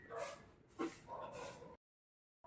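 A large Belgian dog gives a few loud, close, whimpering yips and bark-like bursts in quick succession, then falls silent.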